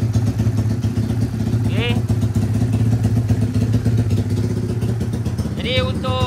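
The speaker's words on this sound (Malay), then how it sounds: "Sambil-sambil tunggu kering ni aku panas enjin" A Yamaha Y15 motorcycle engine on a dyno idles steadily while warming up, a loud, even mechanical drone with a couple of brief revs, as someone speaks briefly nearby.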